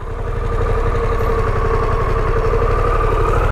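A Harley-Davidson Pan America 1250 motorcycle idles close by in a steady, even rumble with a low throbbing pulse that holds constant for a few seconds, then cuts off abruptly at the end.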